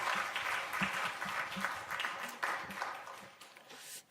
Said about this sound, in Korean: 다시 한 번만 크게 한번 박수 쳐줄까요?